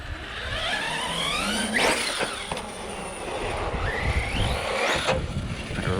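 An Arrma Kraton 6S RC car is bashed around a backyard, its electric motor whining up and down in pitch as it accelerates and slows, with rough rumbling and knocks from the terrain throughout.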